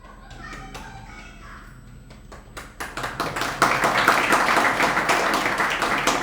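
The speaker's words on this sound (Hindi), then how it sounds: "आप अपने लिए तो ताली बजा लो" An audience in a religious discourse hall breaks into clapping, starting with a few sparse claps that swell into steady, rapid applause from many hands.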